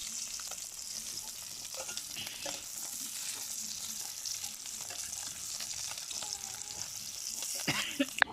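Fish frying in a pan with steady crackling sizzle throughout, occasional stirring scrapes and a sharper clatter near the end, no talking.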